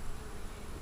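A honey bee swarm caught in June hums as a steady, even drone of many bees in a hive, low and continuous without pauses.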